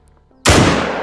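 A single .303 rifle shot is fired in theHunter: Call of the Wild, a sudden loud crack that cuts in from near silence and trails into a long, slowly fading echo.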